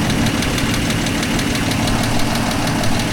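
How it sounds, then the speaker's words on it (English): Toyota FJ60 engine idling smoothly at close range, with a fast, regular ticking from a valve out of adjustment riding over the steady motor hum. "You hear that tick? I think I got one of those valves not quite in adjustment."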